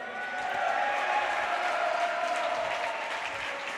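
Teammates and spectators applaud at a high school swim meet, with sustained, even clapping from a sizable crowd that holds steady throughout.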